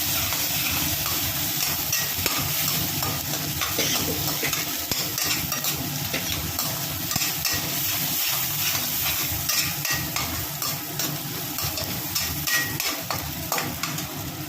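Green peas fry with spices in a hot wok, giving a steady, loud sizzle with constant stirring and scraping of the spatula, close and continuous without talk.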